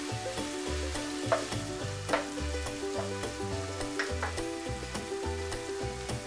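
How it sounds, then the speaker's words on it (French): Ground meat fries with garlic and shallot in a pan, giving a steady, close sizzle. Occasional scrapes and clinks of stirring break through it. "Ajoutez ensuite la viande et la cuire le temps nécessaire en prenant soin de bien séparer les morceaux."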